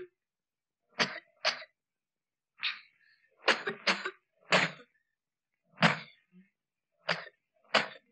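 A person coughs close by in a series of sharp, loud bursts, often in pairs, spread across several seconds with short silences between them.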